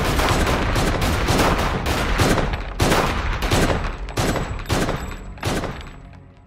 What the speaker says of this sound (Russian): Стрельба началась немедленно.